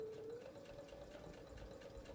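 A sewing machine stitches down an embroidered accessory case with a faint, steady mechanical hum and a quick, even rhythm, heard alone and up close.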